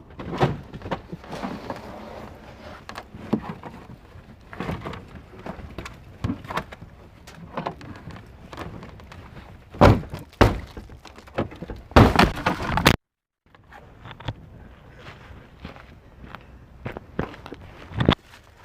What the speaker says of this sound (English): And so I guess I'm going to crawl inside and try to kick it open.